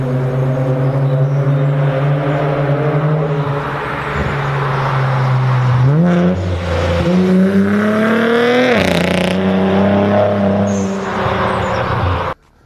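Infiniti Q60 with resonated downpipes and a titanium single exit to a 5-inch tip, revving loudly and close with rising and falling engine pitch through repeated throttle blips, then cutting off abruptly.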